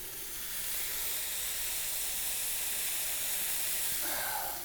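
A burger patty sizzles on a hot skillet for a smash burger, a steady broadband hiss held close and loud throughout with no talk over it.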